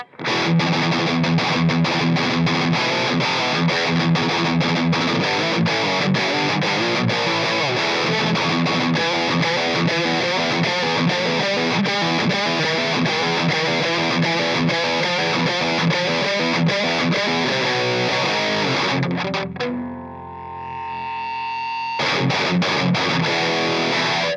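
A heavily distorted, high-gain electric guitar plays chugging riffs continuously and loud, briefly thinning to a sustained ringing note before resuming.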